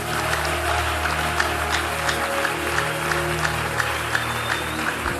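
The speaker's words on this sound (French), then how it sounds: "Est-ce que tu peux bien acclamer pour le Seigneur?" Congregation at a church service applauding for the Lord, steady continuous clapping from a crowd with a few faint voices mixed in.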